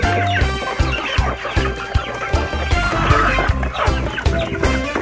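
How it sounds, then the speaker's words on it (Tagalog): Free-range chickens clucking steadily in a busy flock, overlapping calls close by with continuous rustling and scratching beneath. "Pamirinda tayo ng mga manok natin na gala"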